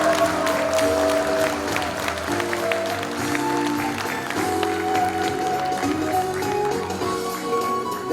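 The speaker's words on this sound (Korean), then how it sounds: "김철근 사무총장님께 다시 한번 뜨거운 박수 부탁드리겠습니다" Audience applause at the founding event of the Reform Party (개혁신당), a steady, dense clapping that fills the hall from start to finish, with music faintly underneath.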